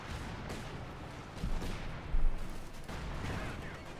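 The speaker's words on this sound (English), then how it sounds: "We got artillery called in on the maximum." High explosive artillery shells burst in a Company of Heroes 2 battle, a series of dull booming impacts amid continuous rumbling game noise, moderately loud.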